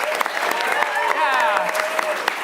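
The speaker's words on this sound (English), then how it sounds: "Let's give a round of applause for people up in the booth, our tech." Theater audience at an improv main stage show applauding for the tech booth crew, a dense, steady clapping that fills the room at close range, with a few voices calling out over it.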